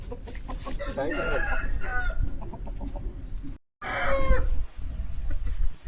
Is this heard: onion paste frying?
no